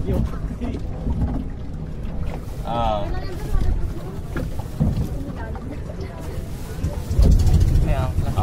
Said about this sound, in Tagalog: umandar na ang bangka